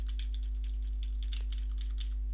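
Rapid clicking of keys on a computer keyboard as shortcuts are pressed, a steady run of light, close taps over a constant low electrical hum, with no talking.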